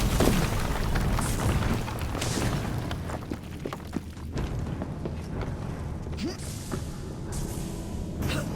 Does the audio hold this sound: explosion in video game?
yes